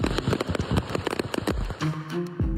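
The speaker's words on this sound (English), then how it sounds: "The moment a pickup truck full of fireworks explodes in the middle of a highway in Tennessee." Rapid crackling and popping bursts from a pickup truck loaded with fireworks exploding on a Tennessee highway, dense irregular bangs filling the first two seconds before thinning into scattered pops.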